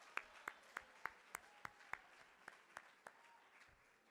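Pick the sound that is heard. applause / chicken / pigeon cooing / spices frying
applause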